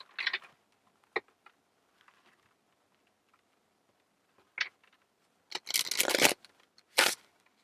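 Tarot cards being shuffled in short bursts, a few light flicks and taps followed by two louder riffling shuffles near the end, close and otherwise quiet with no speech.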